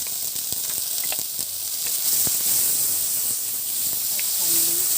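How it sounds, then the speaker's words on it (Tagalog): Onion and garlic sizzle steadily in hot oil in a pan, sautéed as the base for pancit bihon, a close and continuous frying hiss with occasional crackles and stirring scrapes, and no talk. "Magsisimula na tayo magluto. Unahin ang sibuyas. Isunod ang bawang."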